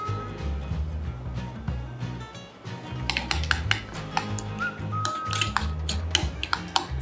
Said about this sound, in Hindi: सब चीज़ों को अच्छी तरह से फेंट लिया हमने